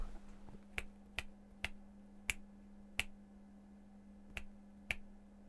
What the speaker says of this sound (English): You can hear me snap, and you can see it snap, and it's fine.